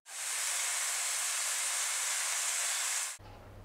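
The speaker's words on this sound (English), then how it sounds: "Once the meat is nice and hot and sizzling" Pastrami meat frying hot in a pan gives a loud, steady, unbroken sizzle that stops abruptly near the end, leaving a quiet low hum.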